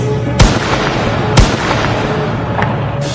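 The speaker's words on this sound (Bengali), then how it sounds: "আবারও গুলির শব্দ" Two sharp, loud rifle cracks about a second apart against a steady outdoor rumble, followed by a couple of fainter distant pops; police gunfire.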